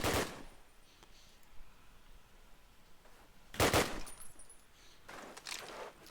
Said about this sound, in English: just shoot through the smokes